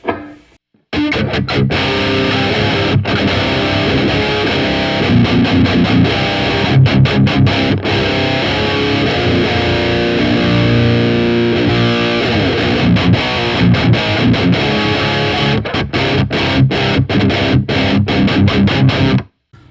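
An electric guitar with active pickups in a low tuning plays chugging riffs through a crunchy distorted tone, loud and continuous with sustained chords and palm-muted bursts, alone without talk.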